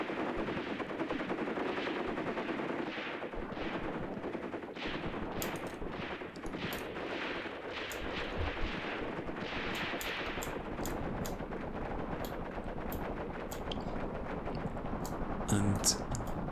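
Gunfire in the tactical war game Graviteam Tactics: sustained machine-gun bursts and scattered rifle shots rattling at mid distance over a rumbling battlefield background, with no speech.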